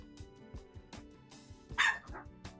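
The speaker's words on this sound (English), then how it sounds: "Oh my goodness, please stop barking." Small pet dogs indoors let out a few sharp barks and yips, one louder burst standing out over a quiet room with background music, while the dogs react to thunder outside.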